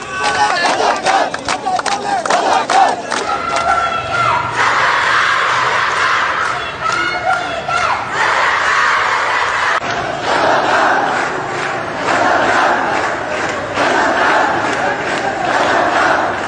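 Student protest crowd in Bangladesh chanting the slogan "Razakar, Razakar" in unison, a loud, dense roar of many voices rising and falling in repeated rhythmic waves throughout.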